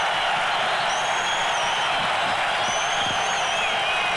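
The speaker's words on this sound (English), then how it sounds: "Applause from the Australian bench." Crowd noise swells at a football match between Australia and Everton as applause breaks out on the Australian bench, a dense, steady wash of clapping and cheering with thin whistles rising over it.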